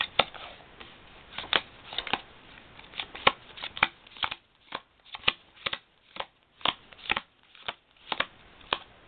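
Playing cards are handled and dealt out one by one for a face-card trick, producing a close series of crisp snapping flicks in an uneven rhythm, with quiet gaps between them.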